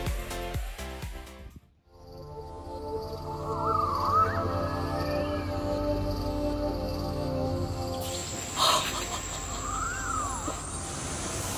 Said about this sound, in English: The howler monkeys make such a huge noise